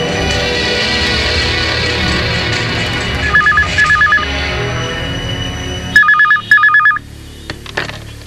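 A telephone rings in a Tamil film scene, several short double-burst electronic rings, first softer under background sound, then louder and clearer against near silence.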